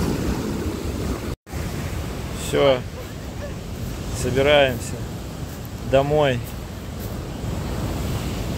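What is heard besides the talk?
stormy sea waves on the shore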